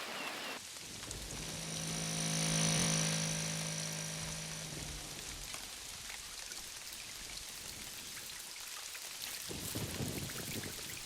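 Steady rain falls with a dense patter of drops on surfaces, loud and continuous throughout, briefly joined by a sustained low tonal hum early on.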